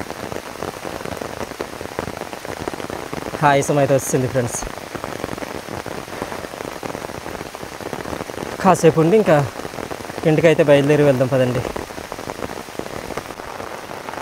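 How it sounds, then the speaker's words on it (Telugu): Heavy rain pours steadily on an Araku hillside coffee plantation, a dense continuous hiss throughout, with someone talking over it in bursts. "చాలా ఎక్కువగా పడుతుంది వర్షం అయితే"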